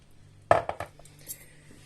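Meat rolls being lifted out of a pressure cooker pot, a sharp metallic clank followed by a few lighter clinks and scrapes of a utensil against the pot, then quiet.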